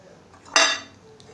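A spoon scoops rice flour from a bowl, making one brief, close clink and scrape with a short rustle after it. No one speaks.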